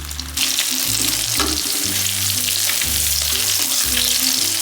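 Eggplant coated in plain egg fries in a pan, a loud, dense, continuous sizzle that bursts in abruptly and holds steady, with low rumbling underneath and nobody speaking.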